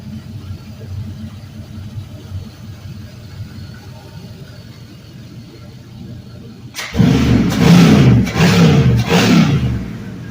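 A GM 5.3L LM7 V8 on a test run sits quiet with a faint low hum, then cranks and fires at about seven seconds into a loud, rough revving roar that surges a few times, with no talk.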